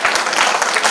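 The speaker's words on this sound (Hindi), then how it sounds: "तीसरी तालियां आप उन शिक्षकों के लिए बजाएं जो इन बच्चों से परफॉर्मेंस करवा रहे हैं।" Short burst of audience applause for teachers at a pre-school event, loud, brisk and close, with no voices over it.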